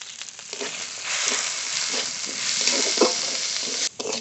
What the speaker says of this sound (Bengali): ডাল ভালো করে ভেজে নিয়েছি